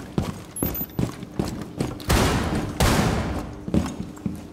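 Gunfire in Rainbow Six Siege during a Kanal hostage team deathmatch: rapid bursts of close, loud shots with heavy thuds, including two long sustained volleys near the middle.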